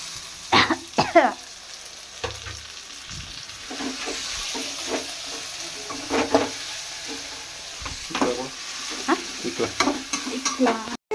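Tomato, garlic, coriander, mint and fenugreek leaves fry in a pan, with repeated scraping stir strokes over a steady close sizzle, plus a brief throat-clearing sound.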